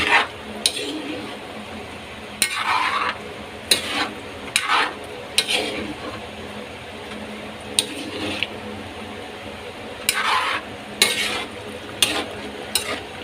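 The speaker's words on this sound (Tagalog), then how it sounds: "Haluin natin no, para yung ilalim niya hindi maluto ng husto." Hot rice being stirred in a pot: soft scraping and squishing strokes at irregular intervals over a low simmering hiss, close by.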